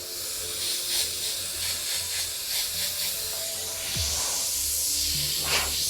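Steady airbrush hiss of paint spraying through a cleared nozzle, continuous and fairly even with a few slight surges, close and alone.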